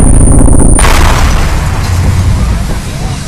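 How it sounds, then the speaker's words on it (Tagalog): A bomb detonates with a loud, deep boom that cuts off a steady high whine, then a long rumbling roar of blast and falling debris fills the rest of the clip. "Ilang sandali lang, pumutok ang bomba."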